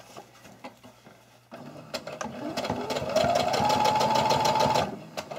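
Sewing machine stitching a cloth face mask straight over the pins, starting after a few quiet clicks and running as a steady, rapid mechanical chatter for several seconds before stopping, close and alone.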